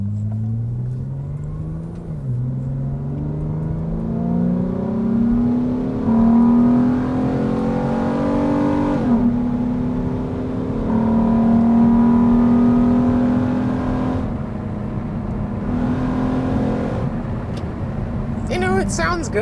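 A 2003 Acura 3.2CL with its J-series V6 pulls away and accelerates in manual mode, pitch climbing through gear changes with shifts around the middle, loud and close; a person speaks over the engine.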